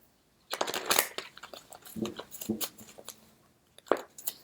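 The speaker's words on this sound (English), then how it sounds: "I like to then shuffle on camera because I like to see readers shuffling" Tarot cards shuffled by hand during a psychic reading, close and fairly quiet, with crisp riffling bursts and soft slaps arriving in irregular clusters separated by brief pauses.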